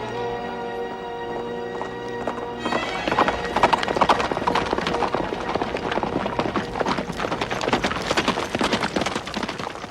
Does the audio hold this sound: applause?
no